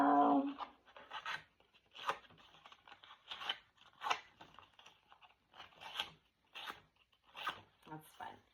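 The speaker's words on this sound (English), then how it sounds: "I'm just dragging my distressing tool, also by Tim Holtz." A Tim Holtz distressing tool scrapes along paper edges in a steady series of short, rasping strokes, close and fairly quiet, with a brief voice at the start.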